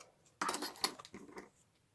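Scissors snip off excess fabric on a handmade pop-up book box, giving one brief, crisp cut that fades into quiet handling.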